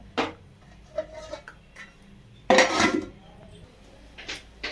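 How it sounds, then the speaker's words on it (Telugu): A metal lid goes onto a cooking pot of pulao with a loud clattering clank in the middle, set among lighter clinks and taps of pots and utensils before and after. "ఇప్పుడు మూత పెట్టుకుందాం"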